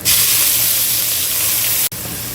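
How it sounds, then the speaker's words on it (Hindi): A loud, close hiss of cumin, green chilli, garlic and onion sizzling in a hot pan for eggplant curry fills the moment, briefly cutting out near the end before resuming. "फिर अब हम इसे फ्राई कर देंगे।"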